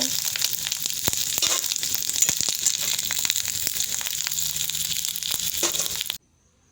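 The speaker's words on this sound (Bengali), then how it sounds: "ডিমের এক পিঠ হয়ে গিয়ে আর এক পিঠে উল্টে দিয়েছি। ডিমগুলি এবার ভালো করে নেড়ে নাড়িয়ে নেব।" Fish roe frying in a pan and being turned with a spatula, giving a steady close sizzle broken by scraping, crackling stirs, until the sound cuts off near the end.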